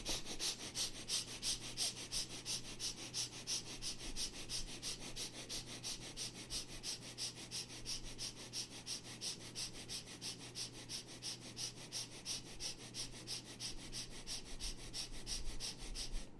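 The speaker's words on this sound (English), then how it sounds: "start breathing. Quick, short breath as if you are playing with the breath." Quick, short, playful breaths in a yoga breathing exercise, a fast steady train of rhythmic sniffing inhales and exhales repeating close to the microphone throughout, soft but continuous with no talking.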